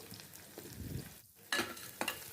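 Green chilli, dried chilli, cumin and asafoetida sizzle and fry in a hot pan, with soft crackling and a few brisk stirring scrapes; close and fairly quiet, with no talking.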